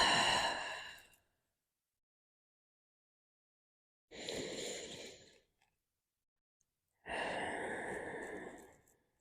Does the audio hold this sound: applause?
no